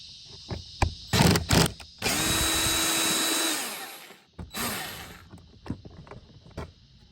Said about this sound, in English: We'll use a 10mm socket to remove it.